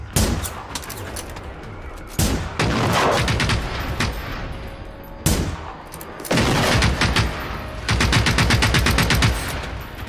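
Loud gunfire in the Generation Zero survival game comes in rapid automatic bursts, separated by short lulls. The volleys grow denser toward the end and ring out close with no speech.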